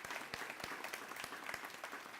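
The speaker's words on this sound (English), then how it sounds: "applaud for Sally." Audience at a Green Task Force breakfast applauding an award recipient, a faint, distant patter of scattered clapping heard from across the room.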